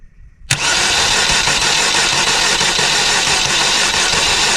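After a short quiet start, an engine started without keys catches abruptly and settles into a loud, steady running drone up close, with no one talking.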